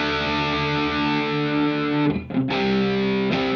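Electric guitar played through a distortion pedal on a hard rock pedalboard with the knobs set around midday, giving a thick, sustained, loud distorted chord that rings steadily, briefly chokes and stutters, then rings again.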